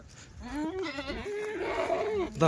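Kathiyawadi dairy goats bleat close by in a long, wavering call lasting about two seconds, with another animal sound starting at the very end.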